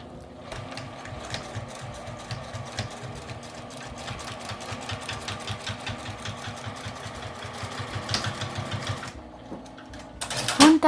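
A sewing machine stitches layered fabric for a small wallet in a steady, rhythmic run of close needle strokes, then stops with a short clatter at the end.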